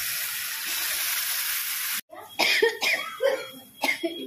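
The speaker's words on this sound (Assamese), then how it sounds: "মানে কাহি গৈছে, চকু পানী ওলাই গৈছে।" Several sharp coughs from pungent fumes while a spiced koi fish is fried in a kitchen, coming in quick bursts after a loud steady sizzle of frying that cuts off abruptly.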